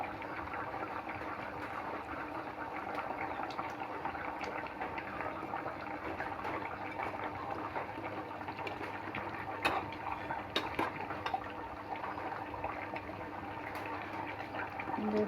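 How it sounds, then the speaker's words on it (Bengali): Fish curry with potato and pointed gourd being stirred in a pan, a steady bubbling sizzle with faint scraping and a few soft clinks, no talking. "মাছ দিয়ে আবার একটু নাড়াচাড়া করে নেব।"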